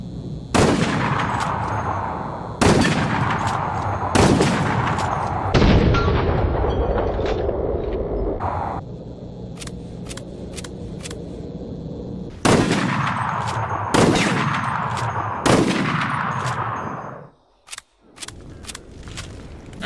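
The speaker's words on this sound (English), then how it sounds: "let's test the bolt-action rifle out" Bolt-action rifle shots in the video game Resident Evil: Operation Raccoon City, loud sharp reports spaced a few seconds apart, each ringing out into a long tail, with a quicker cluster of shots near the end.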